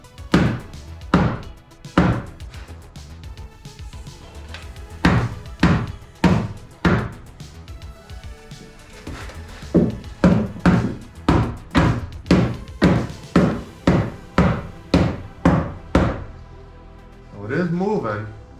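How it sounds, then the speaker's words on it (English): Tapping on a car body dent from inside the trunk during DIY glue-pull dent removal: a long series of sharp, separate knocks, first spaced out, then coming faster in an even rhythm, close by, with a voice near the end. "let's go inside the trunk, give it a little bit of tap, and see if we can help assist this out without breaking the glue"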